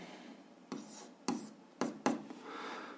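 Pen or chalk scratching out a seventh-grade algebra solution, a faint continuous rubbing broken by four sharp tapping strokes, close and quiet with no talk.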